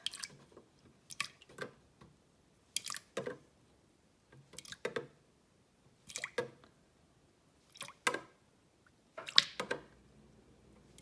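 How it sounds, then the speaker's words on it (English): Tablespoons of milk poured into four eggs in a bowl, heard as a series of about eight brief, soft liquid splashes spaced a second or so apart, close by with quiet gaps and no talking. "I'm going to use 8 tablespoons of milk"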